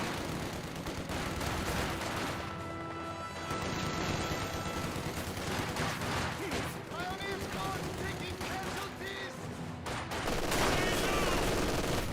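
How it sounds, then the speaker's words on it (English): An MG42 machine gun in Company of Heroes 2 fires on an infantry squad amid a dense battle, rapid bursts blending into continuous gunfire and explosions throughout, with a commentator talking over it. "MG42 firing away, hitting the combat or the conscript squad."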